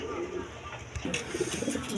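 Lahori pigeons, a pair of toy Lahori birds, cooing softly at close range with low throaty rolling calls against a busy background hum, while someone talks.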